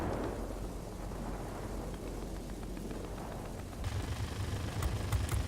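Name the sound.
anti-aircraft fire in World of Warplanes video game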